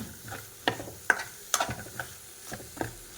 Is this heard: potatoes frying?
yes